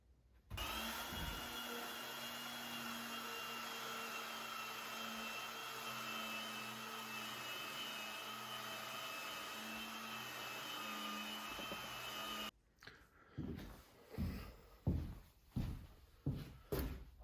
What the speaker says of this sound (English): we'll give the center panel a sanding